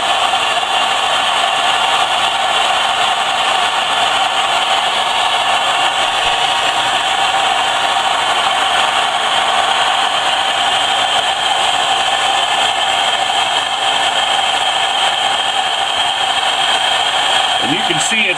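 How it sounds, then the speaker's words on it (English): A hair dryer on its low setting blows steadily over Lionel Scout model train trucks with a continuous, even whooshing hum at moderate level, unchanging throughout. "So I've got my hair dryer here. I'm going to turn it on low."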